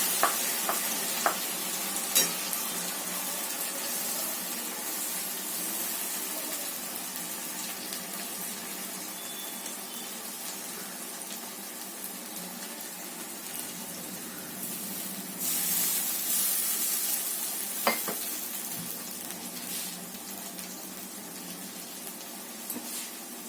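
Mustard and poppy seed paste is stirred in a hot pan, giving a steady soft sizzle with occasional scraping clicks of the spoon throughout, close and moderately quiet.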